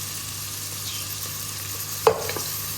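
Onion and ginger-garlic paste frying in a pan, a steady soft sizzle with a few stirring scrapes and clinks near the end.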